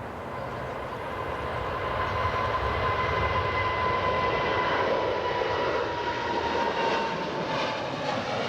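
An airliner takes off at Perth Airport on a long-haul flight to London Heathrow, producing a loud, sustained jet engine roar with a steady whine that fills the whole stretch.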